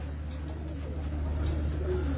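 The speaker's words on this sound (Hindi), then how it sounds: "लाओ जी विकास भाई, लाओ जी कोई अच्छा सा कबूतर दिखाओ" Pigeons coo softly in a loft or market setting, low repeated throaty calls over a steady background hum, faint rather than close.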